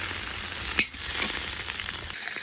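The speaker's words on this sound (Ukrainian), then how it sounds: "Осмажуємо наші реберця до золотого кольору" Pork ribs fry in a cauldron over a campfire, giving a steady close sizzle with faint crackles and one brief louder pop, no voices.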